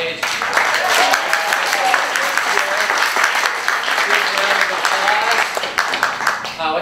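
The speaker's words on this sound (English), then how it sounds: "another round of applause for Pam" A keynote audience applauds loudly and continuously, a dense wash of many hands clapping up close, with some voices mixed into the crowd noise.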